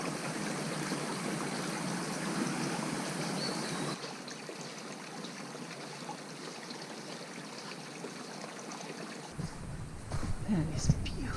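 A stream at Turkey Run State Park, Indiana, flows and trickles steadily over rocks nearby, a continuous rushing babble that thins slightly partway through.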